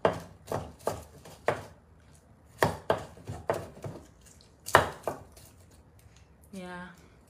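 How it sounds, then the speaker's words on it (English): Garlic being chopped on a board in a home kitchen while cooking tilapia, a run of sharp knife strikes in loose bursts, close and fairly loud, ending with a brief trickle of running water at a sink. "chopping garlic is one of the worst things I hate to do while I'm cooking"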